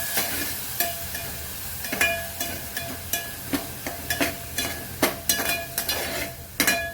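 Ginger and garlic sautéing in a pan for dal makhani, with a low sizzle under frequent clinks and scrapes of a spoon against the pot, close and irregular, with no voices.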